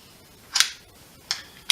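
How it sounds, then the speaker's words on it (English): A Remington R51 pistol with a stiff grip safety being cocked, giving three crisp metallic clicks spaced apart, close and fairly loud against quiet surroundings. "What I'll do here is cock it for you."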